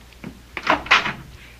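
An old radio mystery drama door sound effect gives a few close, quick clunks and a creaking swing as the door is opened.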